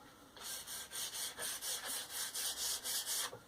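Rhythmic back-and-forth sanding of a charred wooden axe handle, about a dozen even, close, soft rasping strokes in steady succession.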